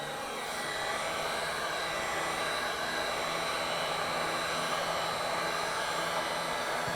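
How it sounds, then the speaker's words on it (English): A torch blasts a steady, close, roaring hiss of flame across acrylic paint poured on a canvas, holding constant throughout without pauses. "I can't wait to hit it with this torch here"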